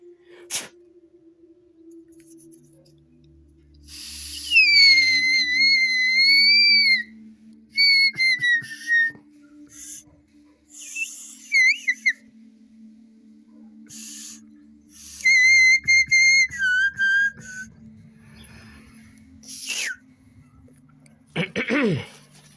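A loud homemade whistle gives several shrill, piercing blasts that rise and fall in pitch, repeated in bursts with short pauses, over a faint steady low background hum.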